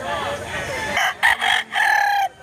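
A rooster crows loudly and close by in a drawn-out, broken call, after a stretch of other clucking and talk.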